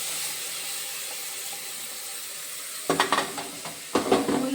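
Ground masala paste going into a hot pan of oil for a festival dish, a quiet steady background that bursts into loud crackling sizzle with stirring scrapes around the three- and four-second marks, no talking.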